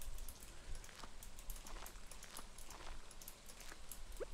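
Rain falling in the Stardew Valley farm game, a faint, even patter of drops with scattered soft ticks, steady across the whole stretch and no voice over it.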